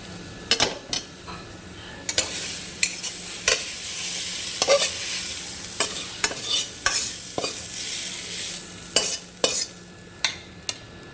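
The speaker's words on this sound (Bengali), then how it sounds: "লাল ডাঁটার শাক সবজরা ভাজা হয়ে গেছে গাজর দিয়ে দিচ্ছি" Red amaranth greens and carrot are stir-fried in a pan, with a soft steady sizzle broken by repeated sharp scrapes and clinks of a metal spatula, close and with no one talking.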